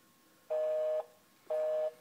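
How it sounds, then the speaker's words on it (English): A landline telephone busy signal gives two steady, evenly spaced half-second tones separated by a half-second gap, clear and moderately loud with no talk over it. "Of course, it's busy right now because we just called."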